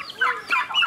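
Turkeys on a farm cluck in short, high, warbling calls, several quick notes close by, with no talk over them.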